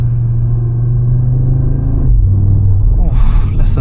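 A 2025 Audi RS3 facelift with a 400 hp five-cylinder and seven-speed S tronic gearbox rumbles steadily up close from inside the cabin, the engine note dropping and rising again around a shift.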